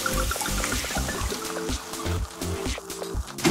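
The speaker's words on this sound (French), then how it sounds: "Versez le vin. Laissez-le s'évaporer un peu." Wine pours into a frying pan with onions for giant lasagne, a continuous close gurgling, splashing stream with rhythmic glugs from the bottle, no voices.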